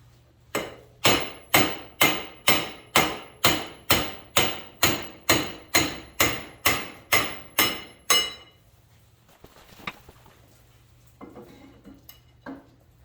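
About fifteen sharp, evenly spaced metallic taps of a hammer on a Yamaha YTM 225 rear axle ring out up close, followed by a few faint clinks and quieter handling.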